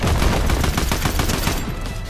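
Rapid automatic fire from a drum gun in the Fortnite video game, a dense stream of fast, loud shots rattling continuously for a couple of seconds.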